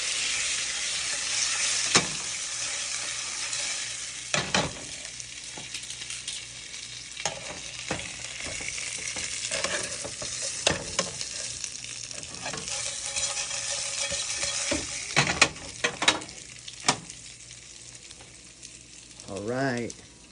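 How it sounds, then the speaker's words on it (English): Tri tip meat frying in a pan, a steady sizzle with occasional stirring scrapes and clatters, close and fairly loud throughout. "We got our meat getting fried up"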